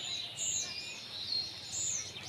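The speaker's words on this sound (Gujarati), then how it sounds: "ઉપર પણ આપણને અસંખ્ય પંખીનો શોર" Several birds chirp and tweet overhead, high bright calls repeating in short bursts over a quiet outdoor background.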